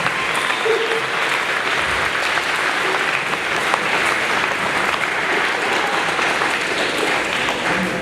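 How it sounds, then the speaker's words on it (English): A crowd applauds steadily, a dense, even clatter of many hands clapping that holds at the same strength throughout without a break. "So round of applause for Production Support Services."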